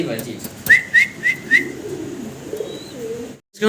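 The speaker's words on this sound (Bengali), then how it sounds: "আমরা এখানে সিঙ্গেল সিঙ্গেল দুই পিস কবুতর দেখতেছি" Pigeons at a Bangladeshi pigeon market, including German Beauty Homer and Lahori birds, give four short, evenly spaced calls close by, followed by a fainter single note against a low murmur.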